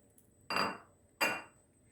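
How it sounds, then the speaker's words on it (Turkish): Two sharp metallic clanks about a second apart, a metal cooking pot of yayla soup being set down and moved, in an otherwise quiet room. "Tenceremi değiştirmem lazım."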